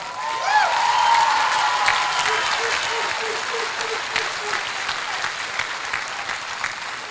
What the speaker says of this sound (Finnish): Iso aplodi taas kerran.